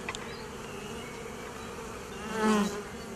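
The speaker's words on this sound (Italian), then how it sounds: "Ape regina nera, Apis mellifera sicula." Sicilian black honeybees (Apis mellifera sicula) buzz steadily around the hive, a dense continuous drone with one bee swelling louder as it passes close near the end.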